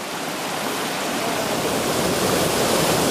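El Calellu waterfall in Cabrales, Asturias, a dense continuous roar of falling water, loud, close and steady throughout with no voices.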